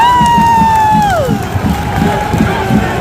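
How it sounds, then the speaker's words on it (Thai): Football crowd at a Zurich stadium during an FCZ versus GC match, a steady loud roar of cheering and chanting with rhythmic pulses, a high whistle-like tone fading early on. "เสียงกองเชียร์เนี่ย เสียงยังไม่ตกเลยนะคะ"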